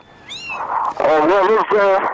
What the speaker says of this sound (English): Those sound like beautiful kittens